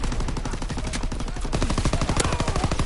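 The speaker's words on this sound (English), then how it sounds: "Firing primary battery." Primary battery guns firing in a WW2 naval video game, a dense rapid stream of loud gunshots hammering continuously, with a heavier burst in the second half.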